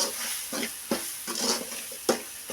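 Drumstick masala is stirred in a pan, with several distinct spoon scrapes and knocks in an uneven rhythm over a faint sizzle.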